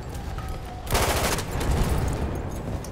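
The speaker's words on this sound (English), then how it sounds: "What's going on? It's just explosions." Explosions and gunfire in the Battlefield 1 video game: a loud burst of rapid automatic fire with booming blasts that erupts suddenly and rumbles on densely until the end.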